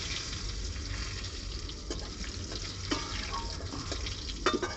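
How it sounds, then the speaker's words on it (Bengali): Cumin seeds and two bay leaves frying in hot oil for a crab bhuna, a steady dense sizzle running throughout with a few faint clicks and stirring scrapes near the end. "এখন আমি জিরার ফোড়ন দিলাম, দুটো তেজপাতা দিলাম"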